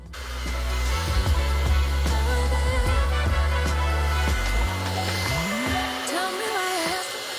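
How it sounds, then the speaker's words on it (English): A hair dryer blows steadily on hair washed after a red henna dye, running as a loud continuous whoosh with a low motor drone, then winding down toward the end. "let's go blow dry it."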